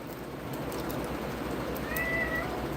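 A house cat meows faintly indoors, a short wavering call late in the clip over a steady low hum of room noise.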